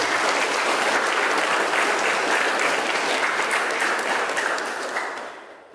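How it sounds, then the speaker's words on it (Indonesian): An audience at a school workshop opening ceremony claps together, a full, steady roar of applause that holds strong before fading out near the end. "Mari kita tepuk tangan."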